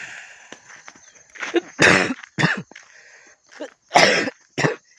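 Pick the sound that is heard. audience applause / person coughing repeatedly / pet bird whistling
person coughing repeatedly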